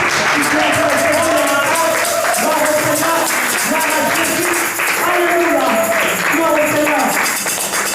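A church congregation applauds loudly and continuously, dense clapping mixed with cheering voices and a sustained, tonal crowd clamor filling the space.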